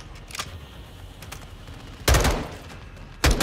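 M16 rifle fire in the video game Call of Duty: Modern Warfare II, two loud sharp bursts about a second apart following lighter distant shots, close and dominant.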